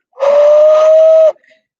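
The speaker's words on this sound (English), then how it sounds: "So there, now you have it whistling" A single sustained whistle note from a clay whistle, steady and breathy, blown loudly up close for about a second before cutting off.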